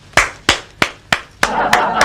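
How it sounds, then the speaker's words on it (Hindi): Seven sharp hand claps, close and dry, struck in a steady even rhythm, with no talk over them. "ताली बजाना जानते हैं?"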